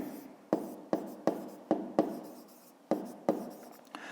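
A pen taps and scratches on paper while numbers are written by hand for a fifth-grade maths exercise, with about nine sharp strokes at an uneven pace, close and quiet with no talking.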